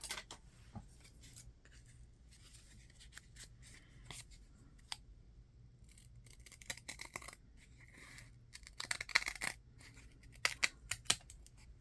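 A vintage book cover board is trimmed up close in a quiet room, with a series of crisp, irregular snipping cuts and light papery rustles between them and no talk.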